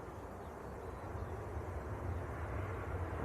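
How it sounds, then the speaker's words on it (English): A Tui airliner taxis at Manchester Airport, a faint, distant low engine rumble and steady hum that builds slightly over a few seconds under open-air background noise. "Tui taxiing in."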